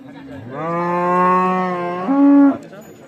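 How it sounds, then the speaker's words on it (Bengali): A single long, loud moo from a nearby Holstein Friesian dairy cow at a cattle market, rising in pitch toward the end, with little else around it. "এইখানে একটা গাভী দেখছি আর বাচ্চাটা বকনা বাচ্চা"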